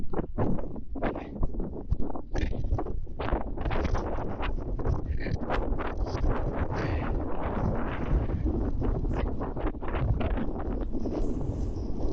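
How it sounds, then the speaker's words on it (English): Strong wind buffets an open mountainside in the Langdale Pikes of the Lake District, a loud continuous roar with gusting rumble close on the microphone throughout. "Hopefully out this wind, because it's blowing a fucking hoolie."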